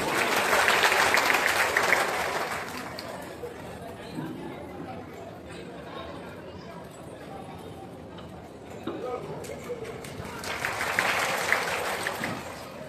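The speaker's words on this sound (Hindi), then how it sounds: "सभी लोग तालियों से गड़गड़ाहट होना चाहिए मंच में।" Applause from an audience at a stage event, rising at the start, fading to a murmur of chatter and clapping, then swelling again near the end.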